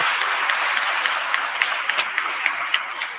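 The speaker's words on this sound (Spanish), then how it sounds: "Así que nos merecemos un aplauso también." Audience applause at the final of a school debate competition, a steady blended wash of many hands with a few sharper individual claps standing out near the front, easing slightly toward the end.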